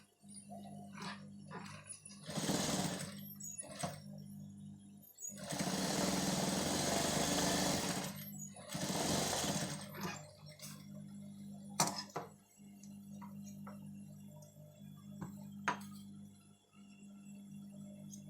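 A sewing machine stitches a trouser front pocket in several short whirring bursts and longer runs, close and moderately loud over a steady low hum, with light ticking between the runs.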